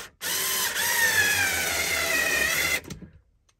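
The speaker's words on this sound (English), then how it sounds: "I would just put it up there and then drill." An electric drill runs steadily for a couple of seconds while boring holes for a TV mount inside a campervan, a close, loud, continuous whine that stops abruptly and is followed by a few faint clicks.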